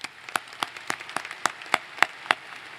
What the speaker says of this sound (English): please join me in a big round of applause recognizing the role our regents play in Washington State University